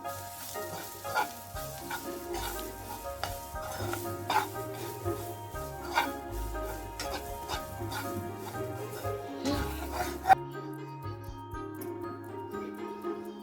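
Horse gram (kollu) being sautéed with onions in a pan, a steady sizzle with frequent stirring scrapes and a sharp clatter near the end, heard alone without talk.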